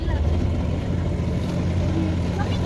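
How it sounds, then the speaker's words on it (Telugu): A motorboat moving across a reservoir at Kadam project in Nirmal District, a loud continuous low engine drone mixed with wind buffeting and water rush, close and steady throughout. "స్టార్ట్ అవుతుంది బోటు. వాటర్ మూమెంట్ని అబ్జర్వ్ చేయండి."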